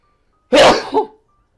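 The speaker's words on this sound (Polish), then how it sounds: "Ale mi się chce kichać" A single sharp sneeze bursts out at close range, a loud explosive blast followed by a shorter trailing gasp, with near silence around it.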